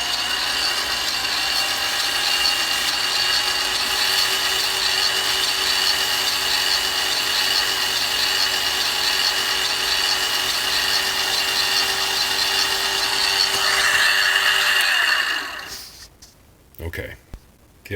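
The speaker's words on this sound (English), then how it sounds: "I'm just going to clean that up Little sandpaper." A cleaning rod for an SKS paratrooper rifle is rubbed with sandpaper by hand: a steady, close, continuous rasping scrape that runs unbroken for about fifteen seconds, then stops and leaves a few soft handling knocks.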